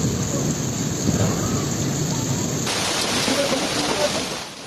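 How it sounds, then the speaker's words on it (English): Heavy rain pours steadily during a thunderstorm in Algeria, a dense, loud hiss of rain on surfaces with low rumbles of thunder underneath and no voices. "bringing heavy rain, lightning storms, and hail that affected multiple areas simultaneously."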